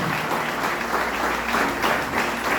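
A church congregation applauds during a sermon, producing a steady, full roar of many hands clapping at once, moderately loud and continuous throughout with no speech over it.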